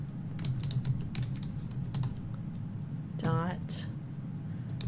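Rapid clicking keystrokes on a computer keyboard while working in SharePoint PowerApps, close and steady with a few louder taps, joined briefly by a voice.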